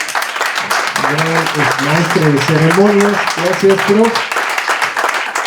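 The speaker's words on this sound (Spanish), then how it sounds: "quiero que le demos un fuerte aplauso" Applause for teachers at a medal ceremony for academic seniority at a school rises behind a master of ceremonies speaking into a microphone, the clapping running steadily under his clear voice throughout.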